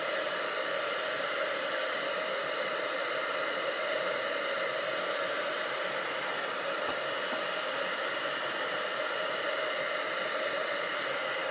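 A heat gun blowing hot air to melt silver embossing powder on vanilla cardstock, a steady close whooshing fan roar holding constant throughout with no voices.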